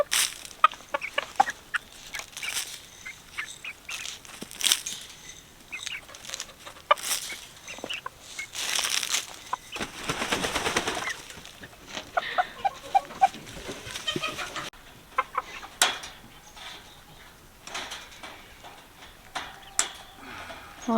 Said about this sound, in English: And there's a rooster.